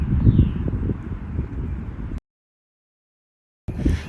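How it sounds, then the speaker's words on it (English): Wind buffets the microphone with a low rumbling roar in an open field, broken by a sudden stretch of silence before the gusts return. "so sorry about the wind. I'm trying to block it"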